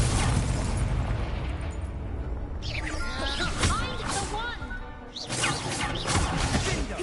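An Incendio fire spell from Hogwarts Legacy bursts out with a whooshing, crackling blast, amid ongoing combat noise with a sharp surge near the end.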